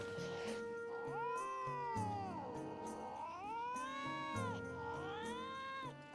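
Close, repeated meowing from a cat in Metal Gear Solid: Peace Walker: three long, whiny cries with swooping pitch, heard over a steady musical backdrop with no speech.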